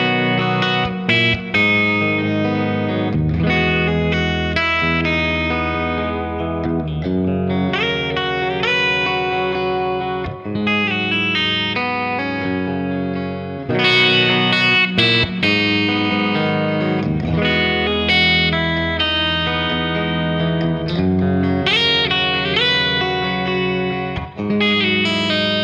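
Electric guitar played through effects on its bridge pickup, comparing a Gibson with an Eastman: a loud, continuous distorted riff with chorus and reverb, sustained chords and runs with brief gaps, no talking.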